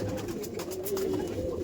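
Pigeons in a loft give low, rolling coos close by, steady and fairly loud against a busy, rustling background.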